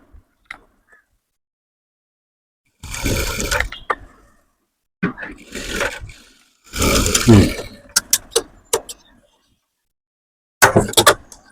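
Sewing machine stitching the neckline of a high-neck kameez in several short bursts separated by pauses, with mechanical clatter and sharp ticks.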